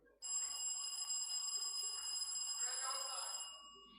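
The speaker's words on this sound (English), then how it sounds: "Let me hear the bell from NSBT." An electric contest bell rung by a school team at a tertiary business quiz competition gives one sustained, loud metallic ring lasting about three seconds before cutting off, with faint room noise underneath.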